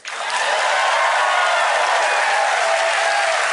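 A large audience claps together at a political talk, a dense, loud, sustained wash of applause that starts abruptly and holds steady to the end.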